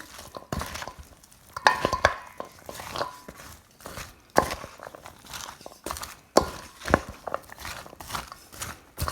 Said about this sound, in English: Now that everything's all in, you just want to mix it all together.